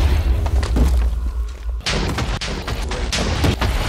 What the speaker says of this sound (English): I'm going crazy with a TNT cannon right now.